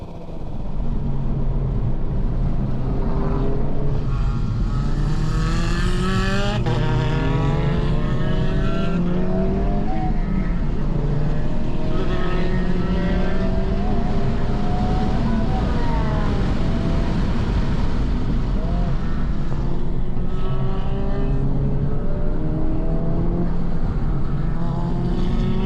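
A stock Honda Civic Type R FL5 laps a race track, its engine loud and close throughout with rising and falling revs through repeated gear shifts, no talk over it.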